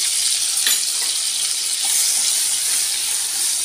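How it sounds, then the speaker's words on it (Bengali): Potatoes fry in hot oil with salt and turmeric, a loud, steady, close sizzle that hisses without pause and carries no talk. "আলুগুলোকে আমি সুন্দর করে নুন আর হলুদ দিয়ে ভেজে নেব"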